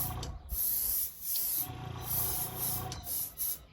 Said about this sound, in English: We got our nice Gaahleri Airbrush.